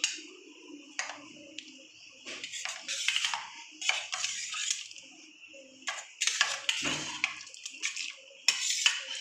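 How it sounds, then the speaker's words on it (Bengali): Prawns dropped into a pot of boiling water for prawn malai curry, giving close clinks and clatters of pot and utensil with bursts of splashing and bubbling water, intermittent and irregular, with no voices. "এবার আমি এই গরম জলে চিংড়ি মাছগুলো দিয়ে দেবো।"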